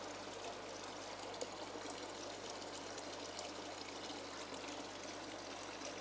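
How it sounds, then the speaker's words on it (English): An aquarium siphon pulls water and debris from the sandbed of a Juwel Trigon 190 planted tank, giving a faint, steady trickling and gurgling flow with occasional small clicks throughout. "So all we're going to do now is just go down and siphon any bits of debris"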